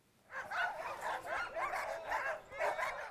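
Many sled dogs bark and yip together at the start area of a dog sled race, a dense, continuous chorus of overlapping barks that sounds close and loud throughout.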